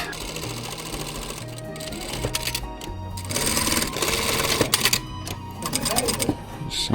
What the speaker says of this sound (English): Sewing this little welt pocket on.